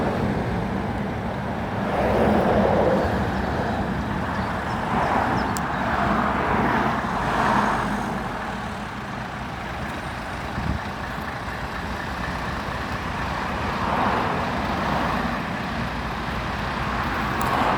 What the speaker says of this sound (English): just the tractor units coming up behind